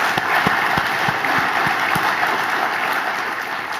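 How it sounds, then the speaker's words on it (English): Conference keynote audience applauds sponsors in a large hall, a dense, steady wash of clapping holding at even loudness throughout. "Please help me thank all of our sponsors with a round of applause."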